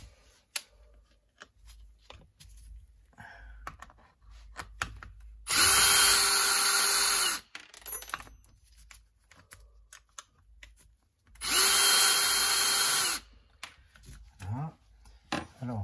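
A cordless screwdriver whirs in two loud, sustained bursts of about two seconds each while unscrewing the wheel nuts on a classic roller ski, with quieter clinks and handling noises between them.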